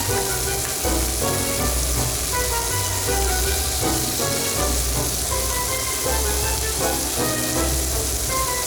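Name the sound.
onions, carrots and red pepper frying and being stirred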